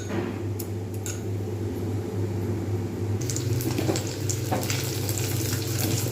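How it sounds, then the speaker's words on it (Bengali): Paneer pieces fry in oil in a pan, a steady close sizzle throughout that brightens and crackles more in the second half, with occasional stirring scrapes. "ঠিকঠাক ভাজা হয়ে গেছে পনিরগুলো।"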